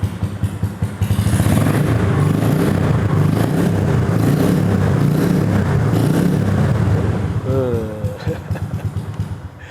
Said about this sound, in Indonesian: pakai knalpotnya RMDW Exhaust? Kita coba nyalain ya.